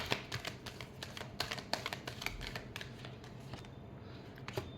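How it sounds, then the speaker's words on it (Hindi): Tarot cards shuffled in quick rustling bursts, a dense run of sharp flicks and riffles close to the mic, with no talk over it. "last shuffle"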